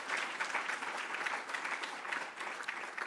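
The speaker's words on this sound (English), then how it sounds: "I think we need to give her a round of applause." A large audience at the Unisa Founders Lecture and gala dinner gives sustained applause: a dense, even roar of many hands clapping that holds steady for the full few seconds, somewhat distant and with no speech.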